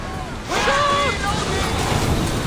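Wind gusting around a warship at sea in Assassin's Creed Odyssey, a broad steady rush with water and hull noise beneath, while voices talk and shout over it.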